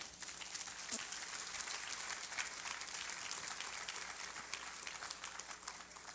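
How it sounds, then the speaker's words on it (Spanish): A congregation at a church meeting applauds, a soft, even wash of many hands clapping that stays steady and fairly distant throughout. "Denle un aplauso al Señor"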